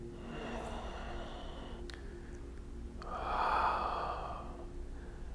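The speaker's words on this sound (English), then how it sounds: "Here we go, breathing in." Slow, audible breaths in a yoga class holding side angle pose, with a soft inhale swelling midway under a steady low room hum, fairly close and unhurried.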